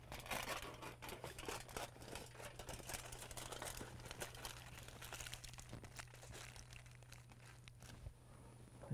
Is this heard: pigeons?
no